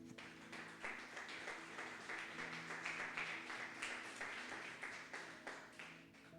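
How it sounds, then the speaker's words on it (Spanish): Church congregation applauding for the Lord during a sermon, a steady wash of many hands clapping at moderate volume that carries on through the whole stretch with no talking over it. "¿Tienes fuerza para darle un aplauso al Señor?"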